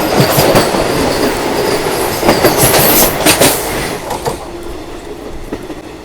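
A 22819 Bhubaneswar–Visakhapatnam Intercity SF Express, heard from inside an ICF chair car, runs with a loud, steady rushing rumble broken by rhythmic wheel clatter and sharp clicks, easing slightly toward the end.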